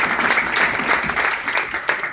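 An audience claps together at a Bangladeshi environmental gathering honoring a River Foundation member's national civilian award, a dense steady wash of applause that stays close and continuous throughout with no voices over it.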